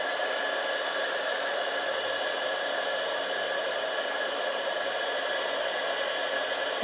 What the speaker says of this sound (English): So now I'm going to take and heat emboss this first layer